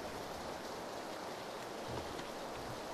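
Rain in PlayerUnknown's Battlegrounds: a soft, continuous wash of falling rain, steady and fairly faint, with no voices or other sounds over it.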